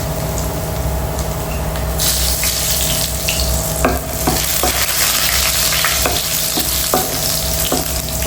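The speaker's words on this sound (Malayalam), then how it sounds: "നല്ലപോലെ ഒന്ന് ഇളക്കുക കേട്ടോ." Onions and chicken curry ingredients stirred in hot coconut oil: a loud continuous sizzle, stronger after the first couple of seconds, with repeated utensil scrapes and taps against the pan, close up and without speech.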